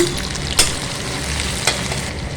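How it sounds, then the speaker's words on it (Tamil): Onions and curry leaves sizzle steadily in hot oil close by, and a spoon scrapes the pan twice. "நல்லா வதக்கி விட்டுக்கணுங்க, எண்ணெய் பிரிஞ்சு வர அளவுக்கு."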